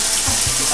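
Water from a shower or tap runs steadily over a dog during its bath, a loud, close, continuous splashing rush with a couple of soft low thumps and no talking.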